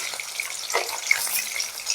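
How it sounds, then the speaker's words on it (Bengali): Soft pieces of hilsa fish fry lightly in a pan, a gentle hiss with a brief louder spatter in the middle. "তারপরে আমি মাছগুলো ভাজবো একদমই হালকা"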